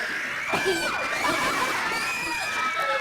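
Elementary schoolgirls in a classroom scream as if calling for help. There are several high shrieks, loudest near the start, over a murmur of children's voices.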